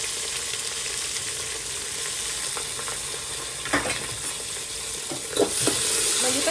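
Six thinly sliced onions fry in a pan with garam masala paste for chicken biryani, a loud, continuous close sizzle with occasional stirring scrapes over it.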